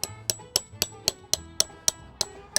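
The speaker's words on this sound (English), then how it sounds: "Now it's time to hammer these things in." A hammer strikes a fence brace pin while driving it into a drilled wooden post for an H brace in horse fencing. There are about ten sharp, evenly spaced metallic blows, close and ringing, with no speech.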